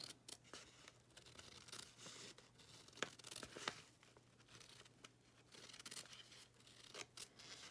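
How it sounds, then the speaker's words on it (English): Scissors snip around a curve in a paper sewing pattern in a steady run of short crisp cuts, close and fairly quiet, with faint rustling between strokes and no talking. "I prefer to cut the curve with a pair of scissors."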